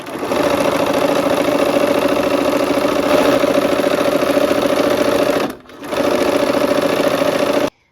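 A sewing machine stitches the final seam of a quilt block, a steady close mechanical whir that runs continuously, stops briefly, then resumes before cutting off.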